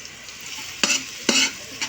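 Octopus for adobo sa gata sizzles in a pan while a utensil stirs and scrapes it in three or four short, sharp bursts over a steady frying hiss.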